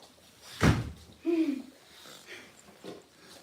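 A door opening at home as young wolf cubs roam the house, one short loud thump near the start followed by quieter movement and a brief voice.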